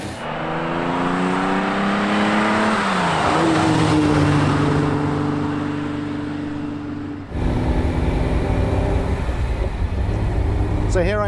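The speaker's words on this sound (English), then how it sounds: "This is genuinely my first drive in a 365 Daytona Ferrari." A Ferrari 365 GTB/4 Daytona Spider's engine sounds under way, its revs rising through gears, dropping on a shift and then pulling hard again, loud and close throughout.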